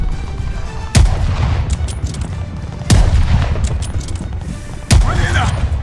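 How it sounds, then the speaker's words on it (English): Three heavy gunshots from above crack out about two seconds apart in Call of Duty Vanguard's 1942 Stalingrad battle, each a loud, close, sharp burst over a steady rumble of distant combat noise. "We are getting shot from above!"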